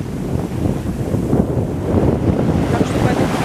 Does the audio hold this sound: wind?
yes